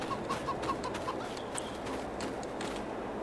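Chickens in the farm game Farming Simulator 22 let out a short run of quick, rhythmic clucks, then a few scattered bird calls, all over a constant background hum of the game world.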